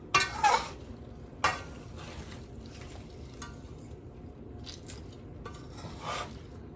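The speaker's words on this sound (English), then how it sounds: "Just stir it gently" Garlic shrimp with lemon is stirred gently in a pan: a few close scraping clatters of a utensil against metal, then soft, quiet shuffling with occasional light clinks.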